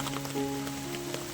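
Heavy monsoon rain pours steadily onto forest foliage and ground in the Konkan countryside, a dense, faint patter with a low tonal hum running beneath it.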